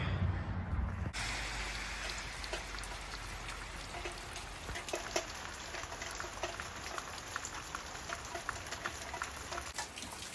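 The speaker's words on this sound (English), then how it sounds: "it is raining" Steady rain patters down on a surface, a dense, even hiss of drops with occasional louder taps, heard close and without voices.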